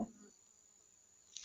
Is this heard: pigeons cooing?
no